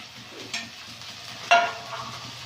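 Spice paste of onion, ginger, chilli, cumin, garlic and coriander leaves fries in a pan under a soft steady sizzle, with two sharper scraping stirs, close and moderately quiet with no talking.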